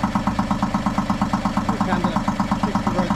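Small inboard motor on a B32 sailboat, running with its engine cover off after getting a little hot, idling in a steady rapid throbbing chug that stays loud and close throughout.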